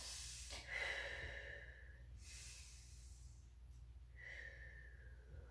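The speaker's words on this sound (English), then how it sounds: "Go ahead and take a couple deep breaths." Deep breathing during a Pilates stretch: three slow, airy inhale-exhale swells, close and soft, with a faint low hum underneath and no talking.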